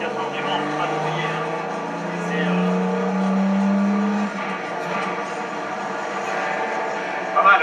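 A Jaguar racing engine that won the 24 Hours of Le Mans, running with a steady droning tone that rises and holds before easing back, with people talking faintly over it.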